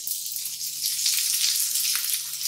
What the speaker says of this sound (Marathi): आपण आता इथे एक बारीक चिरलेला टोमॅटो टाकतोय